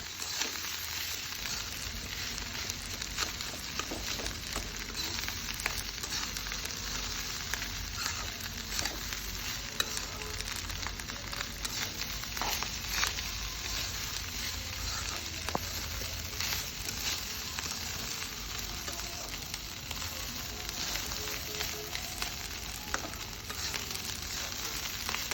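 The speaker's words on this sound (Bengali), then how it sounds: "ফাইনালি ভাতগুলো 10 মিনিট ভেজে নেওয়ার পর" Rice tossed with green chillies and onions fries in a pan with a continuous, close sizzle and frequent stirring and scraping throughout, with no talking.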